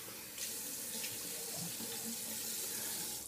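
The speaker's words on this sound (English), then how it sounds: "So let's go ahead and rinse up here." A bathroom faucet runs steadily into a sink while a man rinses his face after shaving, a continuous close splashing wash with no talking.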